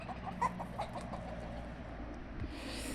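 A hen that once had chicks clucks faintly outdoors on a farm, a couple of brief soft clucks over a steady quiet background with no talk.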